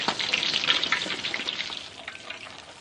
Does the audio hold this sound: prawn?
yes